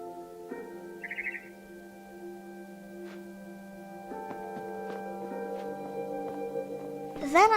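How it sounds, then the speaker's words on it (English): A barn swallow returning to its nest outside a window in a video game chirps in one short, faint burst early on, set over a quiet, steady ambient drone with a brighter swell at the very end. "Then I heard chirping outside my window. It was a barn swallow going back to her nest."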